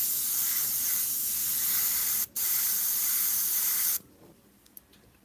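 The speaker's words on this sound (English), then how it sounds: "I sprayed it a little too heavy." An airbrush sprays Createx paint onto Blair synthetic paper in a steady close hiss, broken by one brief gap, then cut off near the end, leaving faint small taps.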